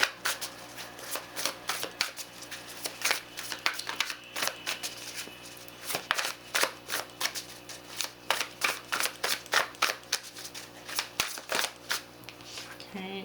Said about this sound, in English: I'm going to pull one more card